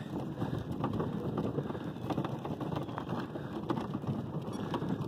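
Gusty outdoor wind on a cold day buffets the microphone as a steady low roar with rustling gusts. No one speaks.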